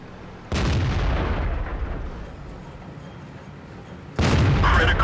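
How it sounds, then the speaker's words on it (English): Tank cannon fire in World of Tanks, likely a high-explosive round from a tank destroyer: two loud, sharp booms, each followed by a sustained rumbling roar, heard alone without talk. "That was probably a HE shot."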